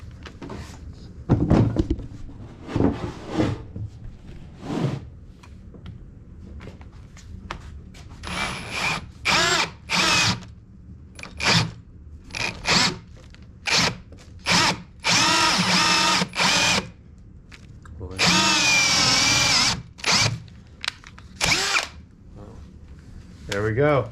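A power drill whirs in repeated bursts while drilling out holes for a heavy-duty workbench, some quick and some held for several seconds, with short stretches of talk in between.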